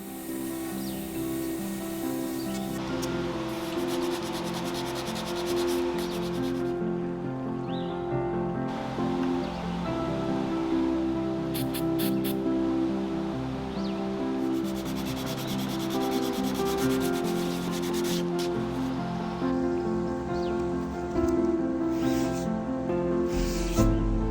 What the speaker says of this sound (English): the idea here is to sand back all of the old protective finish and the sharp edges